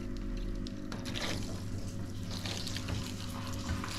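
Water trickles slowly and steadily, a soft continuous splashing over a low hum nearby.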